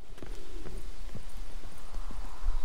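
Horse hooves clip-clop at a steady walking pace in The Witcher 3, the irregular thuds fairly close and set against a constant low ambient rumble.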